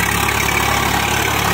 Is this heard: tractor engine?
yes